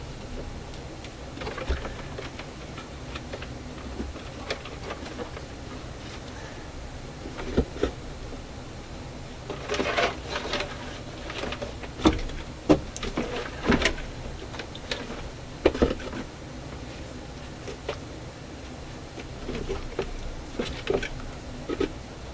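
A Marconi fold-out record player mechanism runs during maintenance, giving off irregular mechanical clicks and ticks that cluster and repeat over a low background hum, close and moderately loud.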